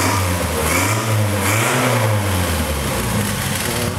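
A small Westfield SE's cross-flow engine with a Weber carburettor idles with a steady low rumble, then gets a couple of quick throttle blips that rise and fall in pitch, close by.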